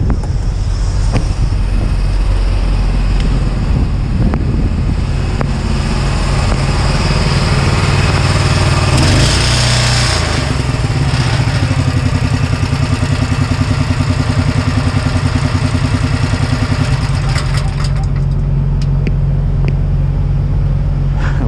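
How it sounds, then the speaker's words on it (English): A small Honda motor runs steadily and loudly up close near a trailer, a continuous buzzing drone with a slight shift in tone midway, no voices over it. "Now we can go and shut down the super powerful Honda motor."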